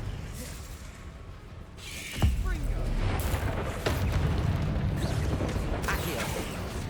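A Confringo fire spell in Hogwarts Legacy goes off as a sharp burst and whoosh, followed by sustained rumbling, crackling blasts and a second impact, loud over dense combat noise, with voices shouting spell names in the background.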